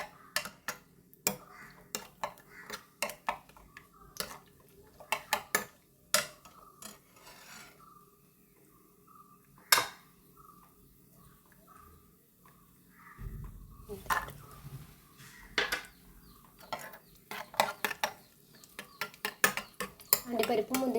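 Cashew nuts fried and stirred in a pan, heard as repeated sharp metallic scrapes and clinks of a spoon against the pan in uneven bursts, close by, with a quiet gap midway and a low sizzle later.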